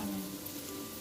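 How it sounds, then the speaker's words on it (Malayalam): Ada pieces frying in hot ghee give a soft, steady sizzle and crackle, quiet and continuous with no talking. "ആ നെയ്യ് ചൂടാവുമ്പോൾ അതിലേക്ക് 1/2 കപ്പ് മാത്രം, അതായത് 100 ഗ്രാം മാത്രം അട ഇട്ടിട്ട് നന്നായിട്ടൊന്ന് പൊൻനിറമാകുന്ന വരെ"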